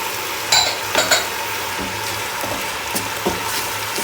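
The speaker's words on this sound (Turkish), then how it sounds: "salçanın kavrulmasını sağlıyorum arkadaşlar" Pepper paste and tomato paste roast in a pan with a steady sizzle, broken by several clinks and scrapes of a spoon stirring against the metal.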